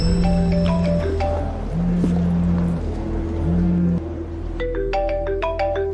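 A phone video call ringtone loops a bright electronic melody, loud and close, repeating its short phrase several times with no one speaking.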